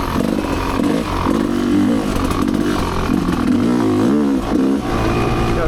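An off-road vehicle engine revs hard on a loose sandy ORV trail, running steadily loud through the gears with rising and falling pitch swells, close and continuous throughout.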